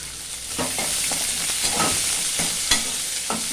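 Onions sautéing in a pan for an okra stir-fry, a loud continuous sizzle with brief stirring scrapes and clinks, no voices.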